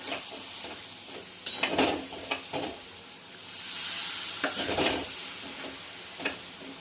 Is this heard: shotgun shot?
no